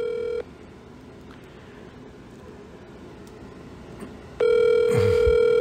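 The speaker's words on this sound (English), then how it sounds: "Come on, Kat, answer the phone." A telephone call rings out as a repeating outgoing ringback tone, steady and fairly loud, with a quiet gap in the middle while the line waits to be answered.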